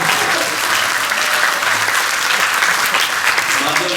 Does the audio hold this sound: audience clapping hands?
yes